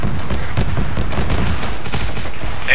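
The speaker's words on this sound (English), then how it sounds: "we're taking shots from the northwest" Gunfire in the military shooter game Arma 3, a loud, dense run of rapid shots and bursts that overlap into a continuous crackling fusillade, close and sustained, with no voices.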